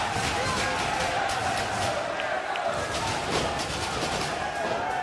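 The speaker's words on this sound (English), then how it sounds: "You can hear who the crowd wants." Professional wrestling crowd at a Ring of Honor event roaring steadily throughout, a dense, continuous wash of arena noise with faint chant-like swells but no distinct claps or words.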